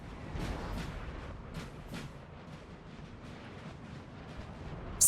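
Distant artillery booms in the Napoleon: Total War battle game, several dull thuds scattered over a low rumbling battlefield din, faint and far off, with a brief sharp burst at the very end.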